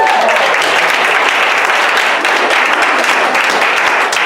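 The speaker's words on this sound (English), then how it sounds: "give a round of applause to Amy?" Audience applause at a community overdose awareness and prevention day event, a dense, steady wash of many hands clapping close by for the full length, loud and unbroken.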